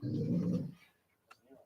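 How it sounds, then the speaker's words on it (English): A trained dog growls low and steady for under a second, close to the listener, followed by a faint short sound and quiet. "He's growling."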